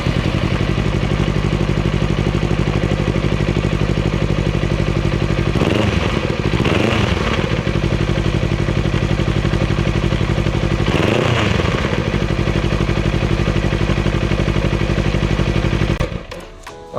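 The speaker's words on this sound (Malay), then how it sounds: "This is how a Kawasaki sounds like." A Kawasaki Ninja 250 motorcycle engine with a non-stock exhaust runs steadily and loudly close by, with a couple of brief throttle blips midway before it cuts off at the end.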